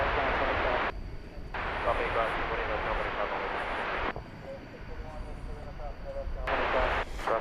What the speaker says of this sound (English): that flight we just saw go around. Flight 1565 from Denver, 737-800